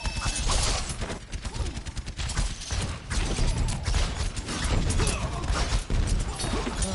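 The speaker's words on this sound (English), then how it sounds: "Where's that shooting coming from?" Continuous gunfire in Overwatch: a dense, loud clatter of rapid shots and mechanical weapon sounds running throughout, busy and close, with no talking.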